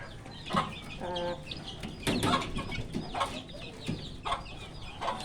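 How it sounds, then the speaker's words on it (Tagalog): Young chicks peeping and clucking close by on a small farm, a cluster of short repeated chirps and cheeps coming in bursts over a soft background, no talking. "Ito na ang ating mga sisiw."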